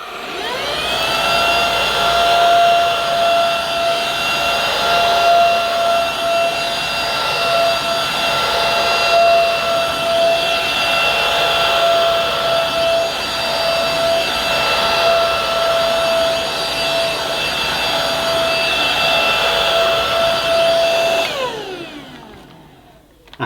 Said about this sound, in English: hopefully we should be able to pick up pet hair from the carpet using the main carpet and floor nozzle